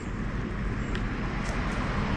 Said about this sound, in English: Let this car go by.